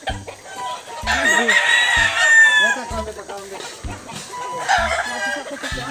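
A rooster crows loudly nearby, a long drawn-out call followed by a second shorter crow, with rhythmic knocking and faint voices underneath.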